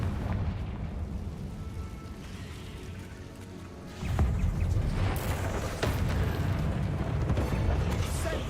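Booming blasts and rumbling bursts from the Confringo fire spell in Hogwarts Legacy, a heavier burst midway over a continuous roar of battle noise.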